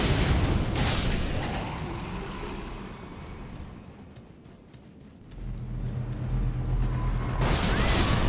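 An explosion in the video game Elden Ring, a loud dense booming blast that fades into a lower rumble mid-clip and then swells back into heavy roaring noise.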